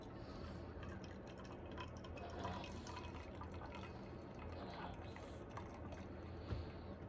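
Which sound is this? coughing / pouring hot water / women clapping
pouring hot water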